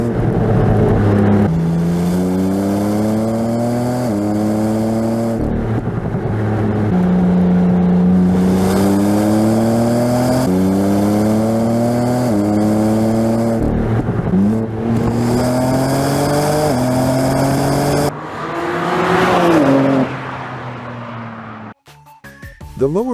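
The 480 hp 2027 BMW M2 M xDrive accelerates hard, its loud engine note climbing in pitch through repeated gear changes, each shift dropping the revs before they rise again. A brief lull and some rustling come near the end.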